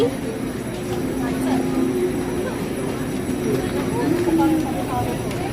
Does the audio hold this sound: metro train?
yes